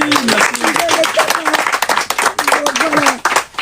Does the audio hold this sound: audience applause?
yes